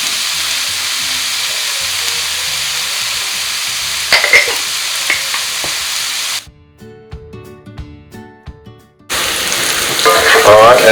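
Salted food sizzles and fries loudly in a pan for lamb rogan josh, a dense close hiss with some stirring, broken by a few seconds of near silence before the frying returns.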